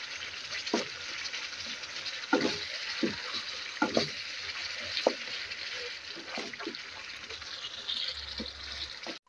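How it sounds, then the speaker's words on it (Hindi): Tomatoes mashed and fried in a karahi for Shinwari beef karahi, a steady soft sizzle under repeated scraping and knocking strokes of a spoon, close and moderately quiet. "हम टमाटर को इसमें अच्छे से मैश करते रहेंगे और 5 मिनट तक इसको भून लेंगे"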